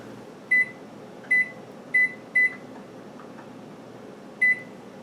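A microwave oven hums quietly while five short, sharp electronic beeps sound at uneven intervals.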